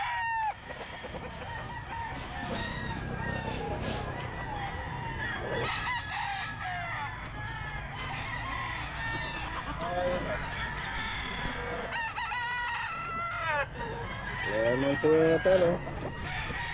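Leiper hatch gamefowl roosters crow repeatedly at a Sunday pet market, several loud nearby cock-a-doodle-doos rising over clucking and steady background chatter, with people talking throughout.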